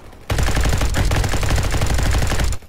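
Automatic gunfire in a Roblox shooter styled after Call of Duty: one loud, continuous burst of rapid shots lasting about two seconds, then a sudden stop.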